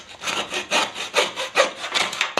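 Handsaw cutting through wood to free a tetrahedron prism, with about eight rhythmic rasping strokes, close and fairly loud, with no voices.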